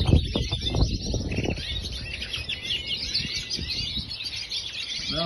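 A pet songbird sings busy, repeated high twittering phrases without pause, close and fairly loud over a low background rumble.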